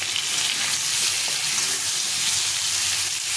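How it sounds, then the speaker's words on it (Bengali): Amra (hog plum) pieces frying for pickle, giving a steady, dense sizzle of hot oil that is close and loud and continues without a break, with no talking. "তো দেখো সুন্দর করে ভেজে নিয়েছি লাল লাল করে।"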